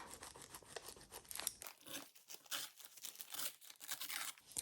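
Pre-made paper ephemera for a journal being trimmed down in height, a run of close, crisp paper cuts and rustles in irregular bursts with no talking.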